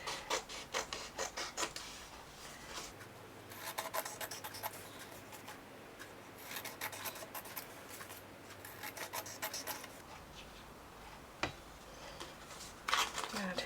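Paper being cut for a collage, soft scraping and rasping strokes in irregular runs that come and go, close and quiet, with a person talking at times over them.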